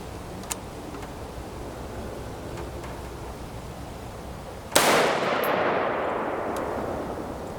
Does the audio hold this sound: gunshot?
yes